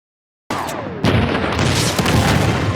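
A loud, sustained blast erupts in Uncharted: Legacy of Thieves as one explosion takes out several enemies, a booming roar with crackling gunfire-like bursts that runs unbroken after a brief silent start.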